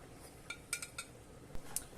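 Blistered Padrón peppers being moved onto a plate, a few light clinks and taps of utensil against dish scattered over two seconds, fairly quiet and close.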